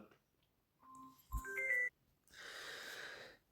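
Telephone ringing during a mobile game stream, a short melodic ring tone of steady pitched notes, then a longer broadband burst, moderately loud with no talk over it.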